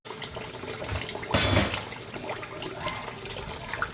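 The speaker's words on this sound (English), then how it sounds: "We are going to wash these off again and drain them off." Cut rutabaga pieces rinsed under running water from a tap, a close, steady splashing stream that swells briefly in the middle, with no talk.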